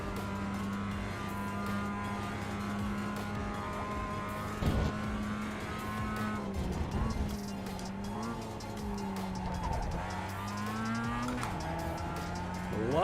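A Mazda MX5 on a track lap, its engine droning steadily as the driver trail brakes into a corner, pitch sliding and rising with gear changes and faint tyre noise, with no talk over it.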